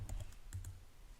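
Soft, quick keystrokes on a computer keyboard while Arduino code is entered, a handful of light clicks in a short burst, faint and close with no talking.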